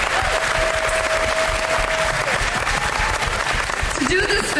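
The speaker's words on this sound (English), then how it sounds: "a big round of applause for everybody" Applause for the staff and cast members at the Epcot Food and Wine Festival preview: a dense, continuous wash of crowd clapping and cheering, loud and sustained throughout, with voices mixed into the noise.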